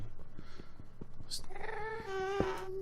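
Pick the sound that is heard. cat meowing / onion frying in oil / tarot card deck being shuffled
cat meowing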